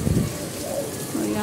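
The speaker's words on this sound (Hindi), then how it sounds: "मैं आपको दिखाती हूँ यहाँ हो रही है बारिश" Rain pours down outdoors in Pakistan during hot weather, a steady dense wash of hiss that holds for the whole brief moment, with a voice faintly underneath.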